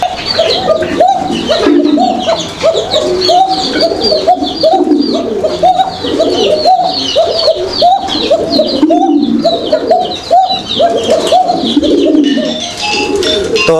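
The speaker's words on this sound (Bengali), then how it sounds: "কবুতরের ডাকগুলো শুনছেন" Several pigeons cooing close by, a dense, continuous chorus of overlapping low, throaty coos that repeats rhythmically and stays loud throughout.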